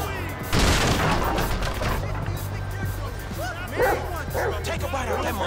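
Chop the dog barking in Grand Theft Auto V, a few sharp barks and yips over dense game noise and loud action, with someone talking throughout.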